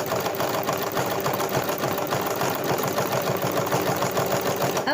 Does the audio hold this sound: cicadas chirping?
no